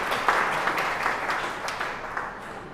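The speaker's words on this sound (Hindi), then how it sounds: "तालियां तो बजाइए।" Audience applause at an ashram gathering, a full crowd clapping steadily with a few sharper claps standing out, slowly easing off toward the end.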